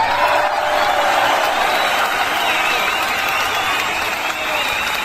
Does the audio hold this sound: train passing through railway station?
no